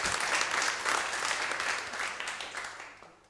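An indoor audience applauds with dense clapping that gradually fades over a few seconds.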